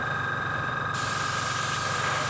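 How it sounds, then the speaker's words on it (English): An airbrush sprays a light coat of paint onto a weave design, a close, steady hiss with no pauses and a faint sound of the compressor underneath. "Just a light spray at first."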